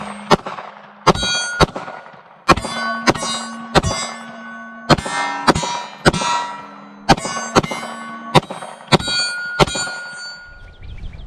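Shots from a Glock 19 Gen 5 with a threaded, flame-fluted match barrel ring off steel silhouette plates at a range. About a dozen sharp bangs arrive in irregular pairs and singles, each followed by a bright metallic clang and a short ringing decay.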